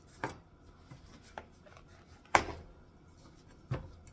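A knife cuts potatoes on a cutting board while Japanese-style chicken is prepared, giving a few separate knocks spaced about a second apart, with one sharper chop, over a quiet room.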